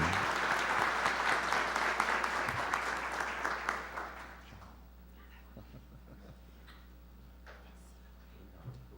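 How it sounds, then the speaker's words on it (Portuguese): Attendees at a real estate symposium in Lages give a round of applause, moderately loud and steady for about four seconds before fading out into a quiet hall with faint murmuring. "Um aplauso para Deus que nos concede esse dia."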